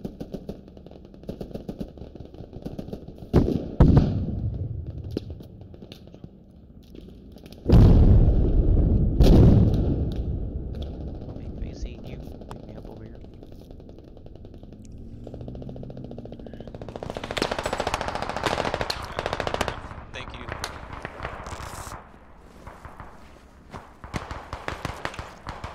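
Gunfire and explosions in the military shooter Squad: bursts of machine-gun fire and single shots, a heavy close blast, and later a sustained roar of mixed firing with footsteps in between.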